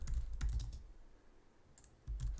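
Quiet typing on a computer keyboard, short bursts of soft key clicks separated by a brief pause, close and unaccompanied by talk.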